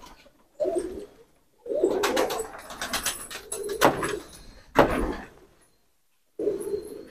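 Deobandi pigeons coo loudly and close by in several distinct bursts separated by short silences, each burst a throaty, rolling call with some scuffling or wing movement mixed in.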